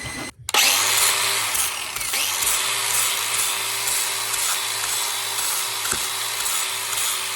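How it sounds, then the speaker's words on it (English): A power drill whines steadily into a metal mini bike exhaust pipe after a brief start, holding a constant high-pitched grind with small catches near the end. "So I did not drill it all the way down"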